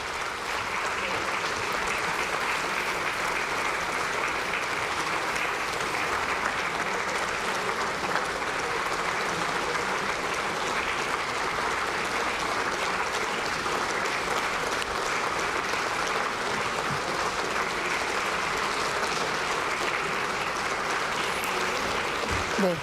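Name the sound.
lawmakers applauding in the National Assembly chamber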